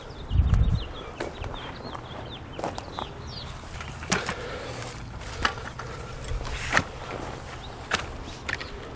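Urban backyard chickens cluck softly near the coop, with scattered footsteps and scratching and faint wild birds chirping in the background.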